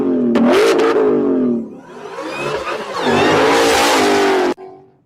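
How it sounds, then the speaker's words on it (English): A supercharged V8 track-mode sports car fitted with an Akrapovic exhaust revs hard nearby, a loud snarling rise that dips, builds again to a sustained howl, then cuts off abruptly. "You get an Akrapovic exhaust."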